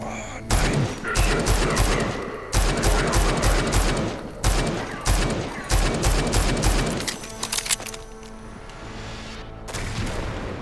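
Gunfire from the video game Rage 2 rattles in loud, dense bursts of rapid shots with booming impacts, briefly pausing between volleys before tapering into quieter rumbling near the end.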